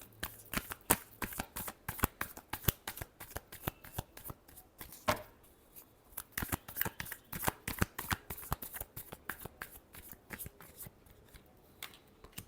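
Tarot cards are shuffled up close in a long run of quick, crisp riffling flutters and slaps, with a brief pause near the middle before the rapid shuffling resumes.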